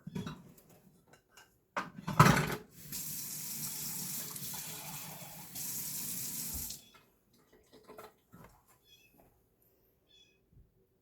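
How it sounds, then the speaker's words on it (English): Tap water runs into a bowl of sourdough dough in a home kitchen, a steady faucet stream lasting several seconds, followed by quieter handling clatter; a cat meows faintly nearby. "so I'm going to add a tiny bit of water."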